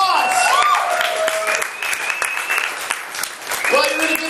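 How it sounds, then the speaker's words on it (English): Comedy club audience applauding at the close of the night, a loud burst of clapping and cheering with a voice talking over it near the mic. "Give yourselves a round of applause!"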